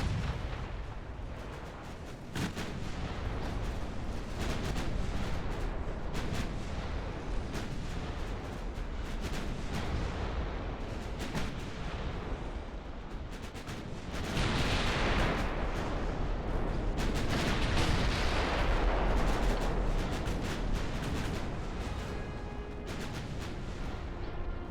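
Naval artillery from warships in Ultimate Admiral: Dreadnoughts, a long barrage of booming gunfire and explosions with irregular heavy thuds, dense and loud throughout, swelling midway with rumbling blasts.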